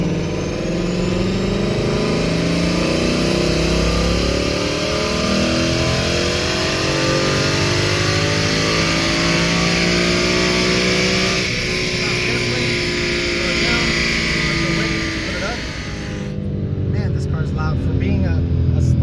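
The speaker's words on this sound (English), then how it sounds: "For being a stock exhaust car, it's kind of on the loud side." A stock 2018 Ford Mustang with its factory exhaust revs hard through a dyno pull, the engine climbing in a long, loud, continuous sweep before cutting off near the end, with voices talking over it.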